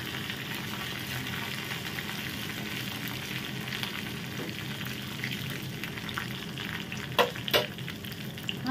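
Curry leaves and a cut byadagi chili frying in hot oil in a pan, giving a steady, dense sizzle throughout, with a couple of louder crackling pops near the end.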